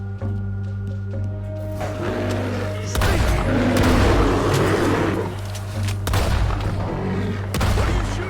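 Gunfire rings out in Red Dead Redemption 2 as several sharp shots crack out over a low droning background, with loud reports landing at irregular intervals.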